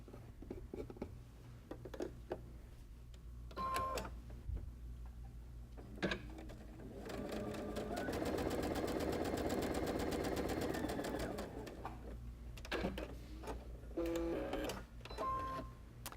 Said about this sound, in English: take it over to the machine and stitch it